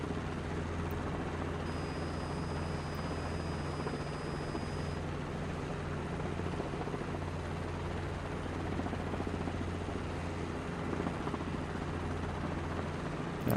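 A helicopter in flight during a 90-knot autorotation gives a steady, loud rotor and engine drone that holds evenly throughout, heard from inside the cabin with no talking.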